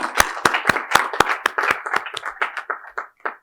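A small audience at a panel discussion claps for supporters, starting with sharp, loud individual claps that thin out and fade into scattered, quieter hand claps over a few seconds.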